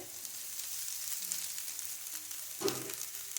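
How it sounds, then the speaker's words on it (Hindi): Finely sliced onions fry in a pan for chicken paratha, giving a steady, soft sizzle with a brief louder crackle near the end and no voices. "इसे मैंने बिल्कुल फाइन स्लाइस में काट लिया है। फ्राई कर लेंगे।"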